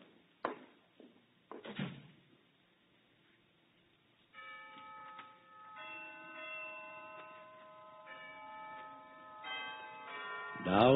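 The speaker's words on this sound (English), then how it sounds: "Down from the Harkness Tower floated the chimes of noon" Tower bells of Harkness Tower chime noon, a ringing carillon sequence of sustained overlapping tones that starts partway through after a few soft knocks and grows louder toward the end.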